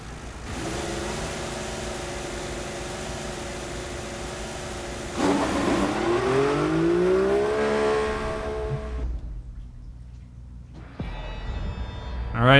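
Formula 1 race car engines in the F1 2014 game at Bahrain International Circuit, idling, then a sharp rising rev climbing in pitch before cutting off, with a final burst of engine noise at the end.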